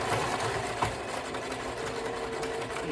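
A sewing machine runs steadily through a stitching seam, a continuous fast mechanical whir and rattle at moderate level with no pauses, close by and alone without talk.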